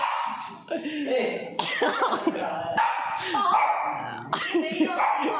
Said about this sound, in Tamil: அந்த நாய் குலைக்குது